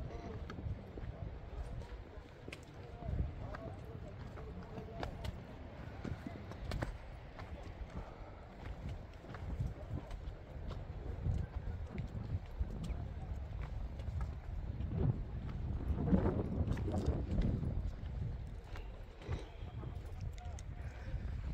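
Horses' hooves clip-clop on a rocky Amarnath mountain trail in Kashmir, steady overlapping steps at moderate distance, with wind noise and people talking underneath.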